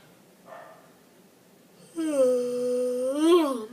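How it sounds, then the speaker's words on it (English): A faint breath, then a long drawn-out voiced yawn with a moaning tone that rises at the end, close to the listener. "sorry I'm yawning so much"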